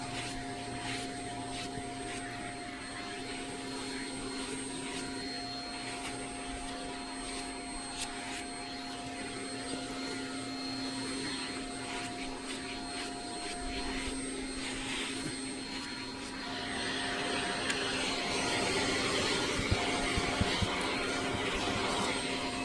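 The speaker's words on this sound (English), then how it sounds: "going much slower along the hair will suction up a lot more dirt" A vacuum cleaner sucks dirt out of a miniature horse's coat, its constant close whine and rushing airflow continuing throughout and growing slightly louder toward the end.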